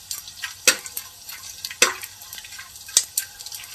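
Edible gum (gond) is fried in hot oil for laddoos, giving a soft continuous sizzle broken by occasional sharp clinks and scrapes of a stirring spoon against the pan.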